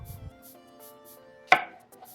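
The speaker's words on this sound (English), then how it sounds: "I'm gonna take my green pepper and I'm gonna cut this green pepper into nice wedges" A knife cutting a green bell pepper into wedges, one sharp crisp chop standing out against near silence with a faint tap just before, close and brief.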